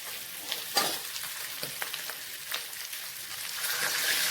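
Potatoes with spices frying in a pan for aloo dum, a soft, steady crackling sizzle with a few stirring scrapes, moderately close and without speech.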